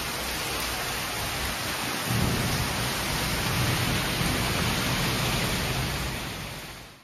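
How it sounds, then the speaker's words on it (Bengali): Heavy winter rain pours steadily outside, a dense, loud hiss that continues without break and swells a little after the first couple of seconds. "খুব বৃষ্টি হচ্ছে।"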